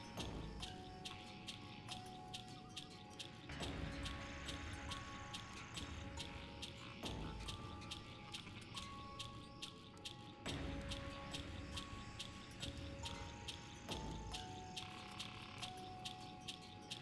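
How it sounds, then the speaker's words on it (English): Crickets chirp steadily in the Tokyo Dark video game, a dense rhythmic ticking layer running through the whole stretch at a constant moderate level with no voices over it. "There's crickets, though."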